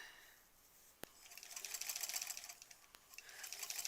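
A sewing machine stitching rows of a granny-square quilt, a rapid mechanical whir that starts after a sharp click and continues, fairly faint and without speech.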